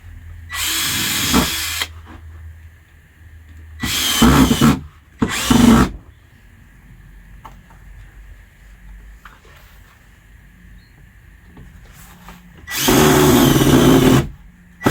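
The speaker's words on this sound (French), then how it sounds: "La perceuse, visseuse." Cordless drill driver running in several short bursts of whirring, one long burst near the start and another near the end, with quieter pauses between and a faint steady hum underneath.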